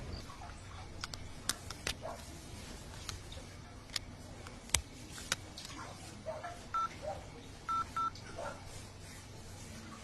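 Touch-tone keypad tones dialing the Dial 100 Telangana Police helpline on a phone, a sparse series of short beeps with a few brief presses near the end, against quiet background hiss.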